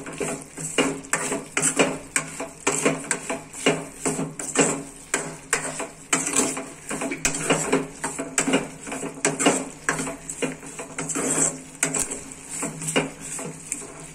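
Turkey berries sautéed with salt in a pan for tamarind curry, a busy run of quick clacks and scrapes of a spoon against the pan with soft sizzling beneath, close and steady throughout, nobody speaking.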